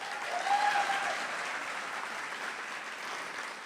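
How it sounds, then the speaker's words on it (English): An audience at a school district convocation claps and applauds steadily, a dense wash of many hands that stays loud and even throughout, with no talking over it. "who we have clapping and applauding here in the audience"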